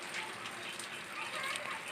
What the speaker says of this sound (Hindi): काफ़ी अच्छा बारिश पड़ रहा है अभी।